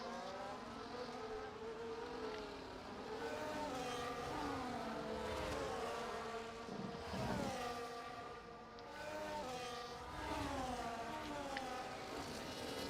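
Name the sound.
safety car lap in F1 24 racing video game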